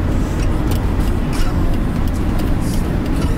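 A sprinter van drives behind a line of five red Ferraris, its steady loud engine and road rumble filling the cabin continuously without any clear change.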